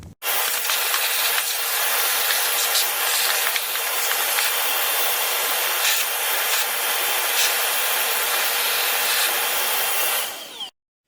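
Steady, vigorous scrubbing with a brush on the lower unit of an Evinrude 40 HP outboard motor, a continuous close rasping noise that runs unbroken for about ten seconds before stopping abruptly.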